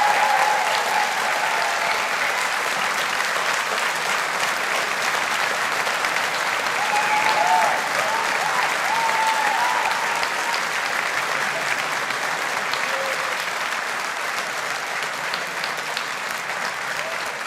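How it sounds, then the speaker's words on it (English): Sustained, dense applause from a large crowd in a hall at an engineering faculty graduation ceremony, steady and even throughout, with faint voices underneath. "Let's give all of our graduates a big round of applause."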